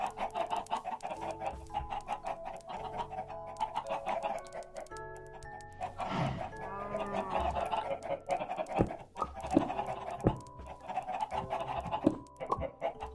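Minecraft chickens cluck repeatedly in a farm scene, soft rhythmic clucks and squawks running through the whole stretch over game background sounds, with no talking.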